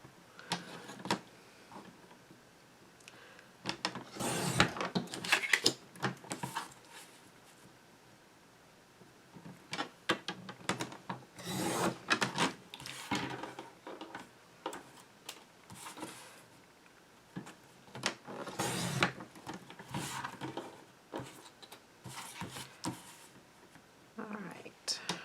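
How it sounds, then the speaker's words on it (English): Scissors snip paper closely around cut-out letters spelling baby for a recycled baby card, giving quiet, irregular clusters of crisp cuts with short pauses between them. "I'm going to cut the word baby out"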